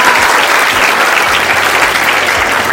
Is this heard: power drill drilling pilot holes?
no